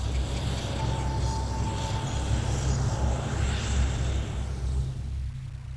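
Gulfstream V business jet flying to Lockheed Martin Logistics in Greenville, South Carolina, heard as a loud, steady broadband engine roar with a slowly sweeping whine, continuous throughout and easing slightly at the end.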